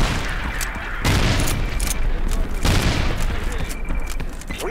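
Frag grenade explosions and gunfire in a video game: repeated heavy booms and sustained rattling fire fill the stretch, loud and close, with a player calling out over the battle noise.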